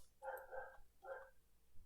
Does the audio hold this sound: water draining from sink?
no